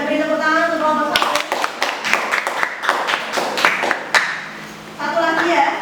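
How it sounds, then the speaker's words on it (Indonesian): An audience claps for a presenting group at a teaching-practice session, a dense burst of applause lasting about three seconds between stretches of talk. "Yang beri tepuk tangan untuk kelompok 1."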